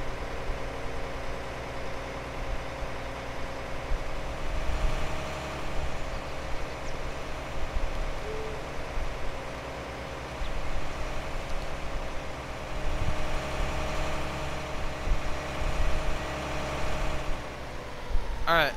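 A large tractor in a farming video game runs with a steady low engine drone and idle rumble throughout, while a player talks over it.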